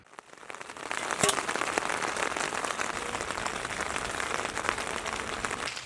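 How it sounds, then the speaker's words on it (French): Steady rain drums on a tent during a bivouac in the Swiss Alps, a dense close patter with scattered louder drops, continuous and without voices. "on n'a pas trop mal dormi, mais il pleut toujours"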